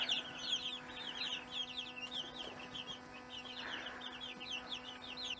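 Soft clucking and chirpy calls from very young chicks, continuous and fairly close, with a steady low hum underneath.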